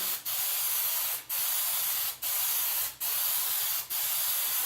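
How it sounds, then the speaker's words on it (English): Several long bursts of aerosol spray hissing close by onto felt, separated by short pauses, steady and fairly loud. "So go through, give it a good spray"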